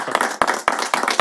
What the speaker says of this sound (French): Applaudissez pour vous.